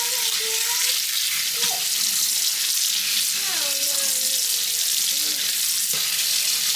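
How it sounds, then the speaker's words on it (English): Tap water runs steadily over sea moss being rinsed in a sink, a continuous close splashing broken by brief shifting tones as the moss is handled and broken apart under the stream. "I want to run it over the water,"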